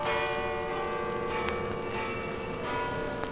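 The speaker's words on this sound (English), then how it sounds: "Well, what do you know? The bells!" Bell tower bells ring in a Spider-Man cartoon, a dense continuous clanging wash with repeated strikes layered over a loud, busy soundtrack.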